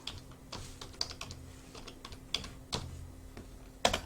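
Keys clack on a computer keyboard as a file name is typed, a quick irregular run of close, light taps ending in a sharper keystroke, with no voices.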